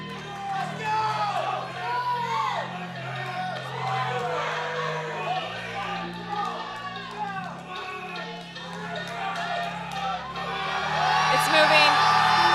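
Loud arena crowd at an SBD Raleigh powerlifting meet cheering, whooping and yelling steadily through a heavy lift, swelling louder near the end, with an announcer's voice and low music underneath.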